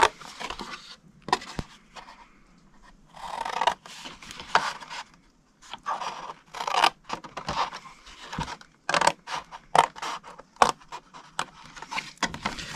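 Paper card stock being cut along its score lines while assembling a Haribo gummy bunny treat box, a run of short, crisp cutting snips and rustles in irregular bursts, close by with no talking.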